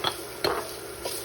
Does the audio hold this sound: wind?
no